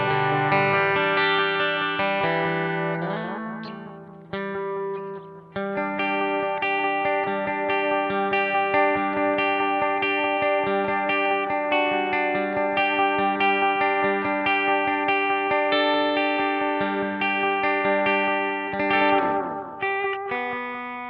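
Electric guitar run through an ambient wash effect on a Line 6 HX Effects unit, sustained shimmering chords with heavy reverb-like tails and chorus swirl, loud and continuous, with no talking.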